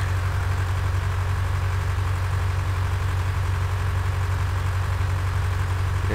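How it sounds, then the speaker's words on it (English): A slow tractor in a farming video game idles with a steady, low diesel throb, loud and unchanging, with a constant mechanical hum and no voices. "Now this isn't a very fast tractor."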